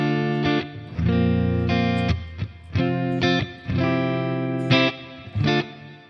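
Crunchy distorted electric guitar chords through a Mesa amp emulation, sustained and then cut short in a choppy rhythm, loud and close with a saturated amp tone.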